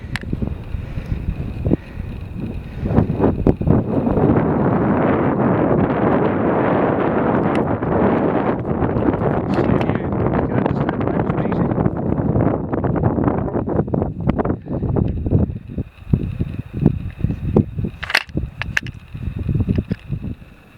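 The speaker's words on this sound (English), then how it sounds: "Bit breezy." Strong gusts buffet the microphone on an exposed rocky ridge of Cioch na h-Oighe on the way to Goatfell, a loud, continuous roar with surging bursts that eases slightly toward the end.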